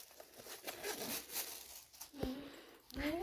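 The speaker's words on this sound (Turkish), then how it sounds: "İki tane böyle fermuar yerimiz var." A zipper on a Mickey Mouse waist bag is pulled in a few short, close rasping strokes, mixed with soft crinkling of the bag and occasional talk nearby.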